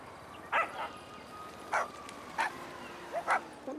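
Dogs bark in the GTA Online video game, several short barks spaced out over a low background hum, fairly faint and not close.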